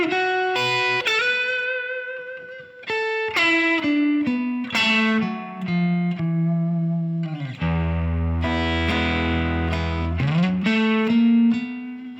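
Slow blues lick on an overdriven electric guitar in B, 12/8 time, with bent sustained notes and quick phrases, loud and close with effects-laden tone and no talking.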